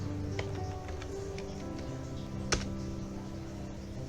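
Computer keyboard keys tapped one by one while entering a Linux command at a terminal, sparse clicks with one sharper stroke near the middle, close and clear over a steady background hum.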